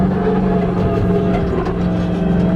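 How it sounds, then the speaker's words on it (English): A monster truck engine roars steadily and loudly throughout a ride, holding a deep, constant drone with no pauses or clear revs. "It's a monster truck."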